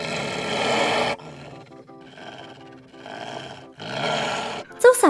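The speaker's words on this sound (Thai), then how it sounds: "สัตว์ร้ายส่งเสียงคำรามและพ่นลมใส่หน้าคนแคระ" A wild beast lets out a deep, processed roar in a fairy tale about a dwarf on a giant's planet. Loud bursts open and close the sound, with lower growling between them, and a sharp snort of breath comes at the end.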